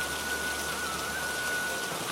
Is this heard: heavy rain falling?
yes